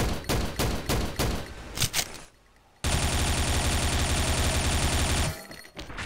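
Gunfire rattles in the shooter game XSHOT: rapid, loud bursts of shots, a brief quiet pause, then a long, sustained stream of automatic fire that cuts off near the end.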